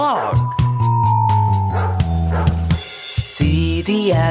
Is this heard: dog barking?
yes